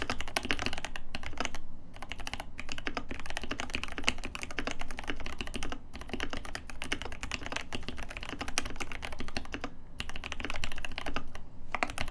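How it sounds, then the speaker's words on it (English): Steady, fast typing on a RAMA U80 mechanical keyboard fitted with T1 tactile switches, close and fairly loud, with dense overlapping keystroke clacks and a few brief pauses, no talking. "let's do some typing sounds now"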